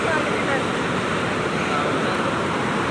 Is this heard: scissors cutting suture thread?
no